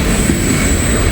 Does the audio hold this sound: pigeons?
no